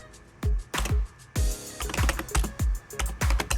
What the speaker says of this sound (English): And we're going to type